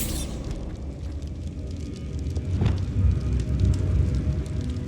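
In Hogwarts Legacy, a Bombarda blasting spell detonates as a deep, rumbling boom that swells and lingers over a steady low roar of game ambience.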